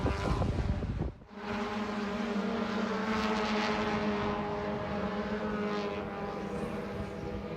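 Race cars at Sebring buzz down the back straightaway, a steady droning engine whine heard from a distance after a brief louder passing sound, at the FARA Race of Champions.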